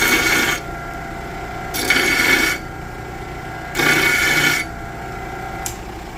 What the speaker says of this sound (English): So let's deburr these edges.